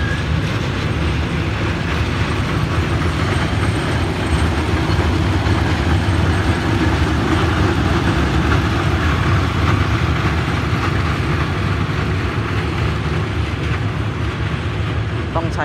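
A special freight train of empty flatcars returning from a tank delivery rolls slowly into Bang Sue yard, with steady rumbling and wheel clatter over about fifteen seconds, close by and continuous, a voice talking over it.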